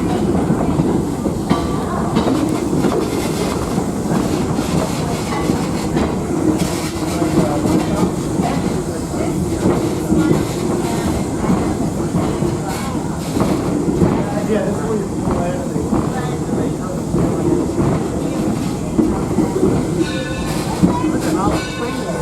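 A steam train, Torch Lake Number 3 at Greenfield Village, rumbles steadily along the rails with a constant clattering roar and rhythmic wheel clicks, close and loud, with a voice faintly beneath the noise.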